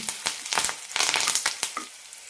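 Curry leaves and garlic crackle and spit in hot oil for a tomato garlic chutney, a loud close burst of popping sizzle with quick stirring scrapes that settles into a quieter hiss by the end, no voices.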